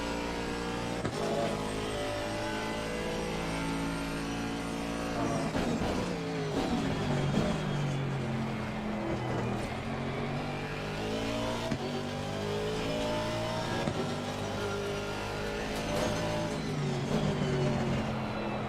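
An Aston Martin AMR V8 race car laps Kyalami in Assetto Corsa Competizione, its engine roaring continuously with rising revs and quick gear changes, loud and close throughout.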